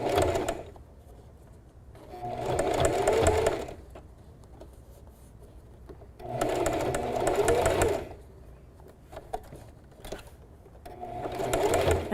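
A sewing machine runs zigzag stitches across scrap fabric braids, coiling them into a round pod, in three steady whirring bursts separated by quiet pauses.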